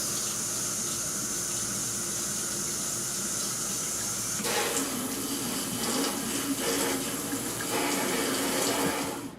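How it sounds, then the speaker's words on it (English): Tap water runs steadily through a faucet diverter feeding a countertop water filter system, a constant rushing stream that turns noticeably louder and splashier partway through, with no talking. "Now we're going to turn on the water, activate the diverter"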